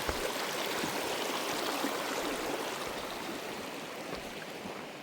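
A low-flowing mountain stream rushes steadily at a rocky trail crossing on Mt Whitney, a constant close broadband wash with no talk.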